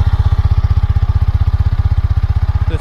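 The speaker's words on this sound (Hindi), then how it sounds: "इसका एग्जॉस्ट साउंड मैंने आपको सुना दिया जो कि बहुत ही प्यारा लगता है" A Yamaha R15 V4 motorcycle engine idles at close range, its exhaust putting out a steady, rapid stream of even low thumps with no change in pace.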